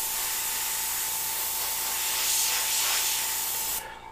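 Steady spray-gun hiss from airbrushing a skull design with soft overspray, a continuous close airflow that runs unbroken for about four seconds before cutting off abruptly near the end.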